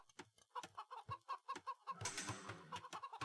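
Chickens cluck in a real-time strategy game, Age of Empires, as a rapid string of short, clipped clucks runs near and fairly quiet, ending in a brief noisy flurry.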